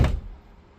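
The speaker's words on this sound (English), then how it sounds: "Let's watch the door close." A Honda Odyssey minivan's sliding door is pulled shut and fails to close fully: one dull, close thunk that quickly fades into quiet.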